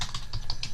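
Computer keyboard typing, a quick run of close, crisp key taps in an even rhythm, heard alone.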